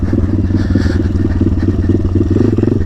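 A motorcycle engine held in first gear, loud and close, with a rapid pulsing rumble that stays steady rather than climbing sharply, no talk over it.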